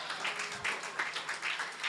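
A church congregation clapping together for a short stretch, a steady patter of many hands at moderate distance with no talk over it.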